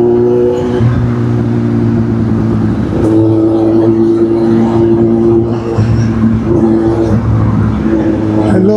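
A Kawasaki 10R sportbike idling and revving while stopped at a traffic signal, a loud, steady engine drone with rising rev swells close by, amid street traffic noise.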